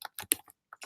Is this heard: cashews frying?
no